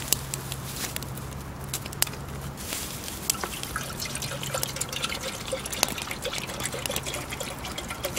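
A litre of water poured out during a camping wood-chip stove test, outdoors: a steady, close trickling stream with scattered drips and patters running throughout, with no talking.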